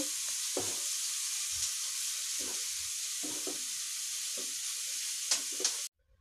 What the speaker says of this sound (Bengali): আমি নারকেলের দুধটা দিয়ে দেব আমি এখানে দেড় কাপ নারকেলের দুধ নিয়েছি দিয়ে এটাকে ভালো করে মিক্স করে নেব